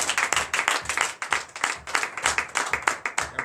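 Rhythmic clapping from a church congregation at a Sunday worship service in Comè, Benin, a steady pulsing beat of many hands that sounds close and fills the room without pause.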